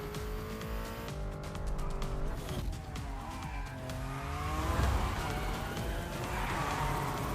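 Cars in The Crew Motorfest racing game slide and skid with straining engine notes rising and falling alongside tyre squeal, building into louder, denser skidding in the second half, with no talk over it.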